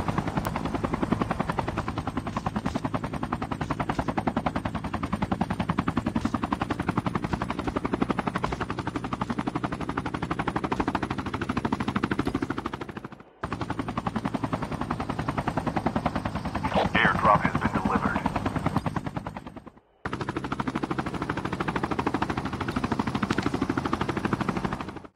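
Helicopters in Call of Duty thrum loudly and continuously with dense bursts of machine-gun fire over them, cutting out briefly twice; a voice can be heard faintly under the din.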